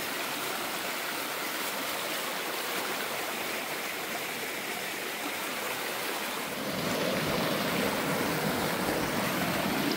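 Water rushes steadily along a rocky stream in the countryside, a dense close roar that swells louder partway through as more water arrives, with no voices.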